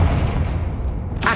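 A Confringo blasting spell explodes in the Hogwarts Legacy video game as a brief, deep, rumbling boom, with a sharp crackle at the very end.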